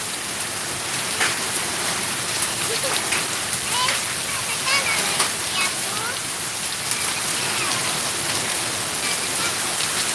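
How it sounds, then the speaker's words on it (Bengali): Heavy night-time storm rain with hail pours down in a dense, continuous roar that stays loud and steady throughout, with no pauses or distinct gusts. "আপনারা দেখেন মানে কি পরিমাণ ঝড় বৃষ্টি হচ্ছে"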